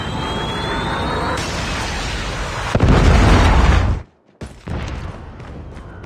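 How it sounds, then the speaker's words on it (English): A Predator missile strike in a military shooter game lands as a loud, deep boom with a heavy low rumble that cuts off abruptly. Dense battle noise surrounds it, then fades back in after a brief near-silence. "Predator missile inbound."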